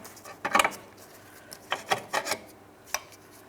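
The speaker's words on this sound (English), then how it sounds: "remove the ball joint from inside of the control arm" A ball joint is worked out of the control arm of a 2004-2008 Pontiac Grand Prix, giving a few short metallic scrapes and rubbing clinks in quick bursts, moderately close with no talking.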